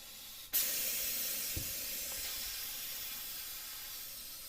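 Compressed air rushes into the inner tube of a KLR650 motorcycle tire during an off-road tire swap: a sudden, steady hiss starts abruptly and continues close up to the end.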